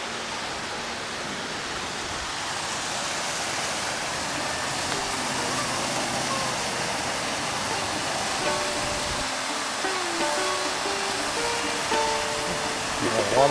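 A small waterfall trickles down a series of stepped drops near a train bridge in Allen, Texas, a steady broad rushing wash heard up close, with faint muffled movement and a rising bump near the end.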